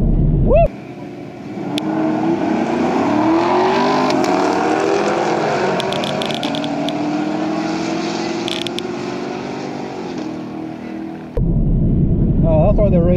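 A 2018 Chevrolet Camaro SS and other sports cars race on a track; a steady, loud engine drone climbs through the gears at close range, with a voice talking at the start and end.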